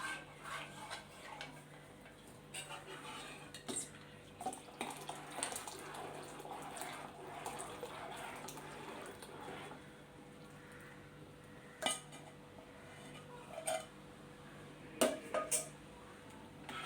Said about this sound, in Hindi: उसको मिक्स करके अच्छे से फिर हम फ्लेम को स्टार्ट करेंगे।